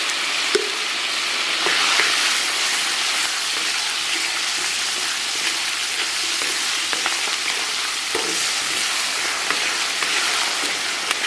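Scallion, ginger, garlic and Pixian bean paste stir-fry in moderately hot oil, giving a steady, close, dense sizzle that holds throughout with a few faint scrapes of stirring and no voices.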